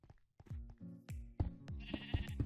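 Sheep bleat repeatedly in the Minecraft StoneBlock modpack, a run of wavering, nasal cries that overlap one another, clear and close.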